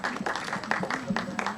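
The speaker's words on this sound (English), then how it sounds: "Can we have a huge round of applause for the entire star cast," Applause at a Bollywood film press event for the Ek Villain Returns star cast, a dense patter of many hands clapping with a faint voice murmuring underneath.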